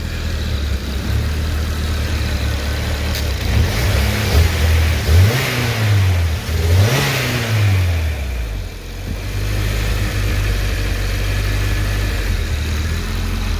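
Turbocharged Honda F20c-swapped Mazda RX-7 engine running steadily close by, with a few slight surges and revs rising and falling in pitch mid-clip, then settling back to a rough, continuous idle.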